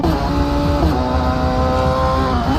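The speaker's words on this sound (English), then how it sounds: "These cars are very loud, so I'm gonna have to turn them down just a bit." Race cars at speed on the Trinidad circuit during a Caribbean Motor Racing Championship round, engines roaring loud and close with shifting pitch and a brief gear-change dip, continuous throughout.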